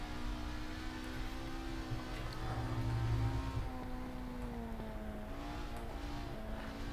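Race car engine in the Assetto Corsa driving game, a sustained revving drone whose pitch rises and dips smoothly with shifts, heard quietly and steadily with no talking.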